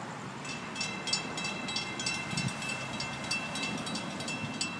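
FEC train 202 rolls past outdoors at moderate distance, a steady rumble with a rhythmic clicking of wheels over rail joints, no talking.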